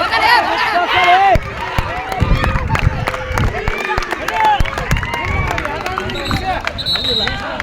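At a zone-level school sports meet final, an audience claps to encourage the children, with scattered claps and crowd noise under a loud voice talking over a PA.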